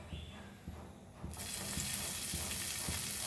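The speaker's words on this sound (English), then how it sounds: "now we will fry our garlic" Garlic and bird's eye chilies hit a hot pan for a Goan snack, bursting into a loud, steady sizzle that starts abruptly and continues evenly after a quiet moment with faint kitchen noises.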